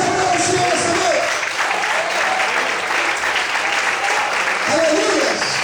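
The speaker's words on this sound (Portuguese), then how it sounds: "Vamos para aplaudir e exaltar o Senhor esta noite." Church congregation applauding at an evening service, a dense, loud wave of clapping from a crowd that holds steady for several seconds, with a voice heard faintly over it.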